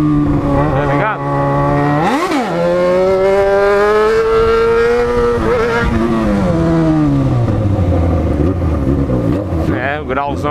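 A Yamaha XJ6 motorcycle revs hard up close in stopped traffic, its engine note climbing and falling in long sweeps with rough, crackling exhaust through the loud stretches.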